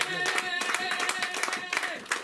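Rhythmic clapping from a church congregation acclaiming Jesus during a French-language Christian sermon, steady hand claps mixed with voices and singing, fairly close and continuous.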